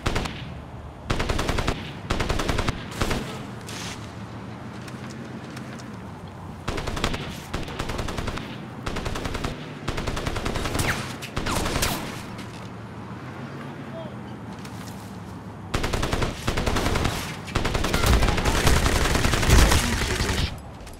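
Bursts of automatic gunfire in the video game Crysis, repeated rapid machine-gun volleys and fusillades in loud clusters separated by quieter gaps, with someone talking in German between and over the shooting.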